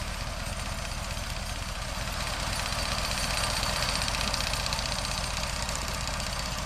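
A John Deere 37 pull-type sickle bar mower behind a tractor, likely a John Deere 630, cutting hay in a field, with a loud, continuous engine drone and a rapid chattering knock of the cutter bar throughout.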